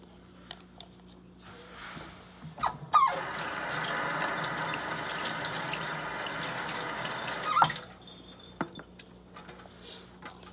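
Tap water runs steadily into a sink for about five seconds while rinsing during omelet prep with breaded ground pork, onion and cheddar, with faint kitchen clinks before and after.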